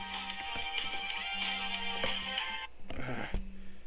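A telephone ringtone trills in a steady high electronic pattern for nearly three seconds, breaks off, then sounds again in a shorter burst, fairly clear and without talk.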